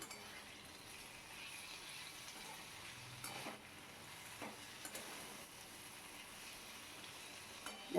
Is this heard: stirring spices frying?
yes